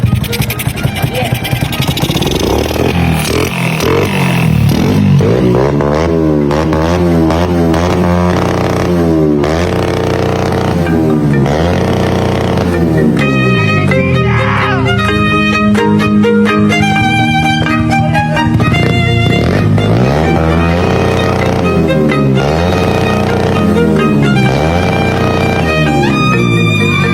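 A Honda Dash 110 motorcycle engine with a superstock build revs repeatedly in loud, rising and falling bursts, up close, with some clattering between the throttle blips and no talking.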